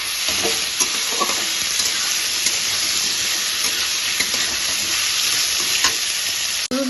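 Potatoes and onions fry with turmeric and salt in a pan, giving a loud, dense, continuous sizzle. Faint scraping stir ticks come through every second or so, with no talking.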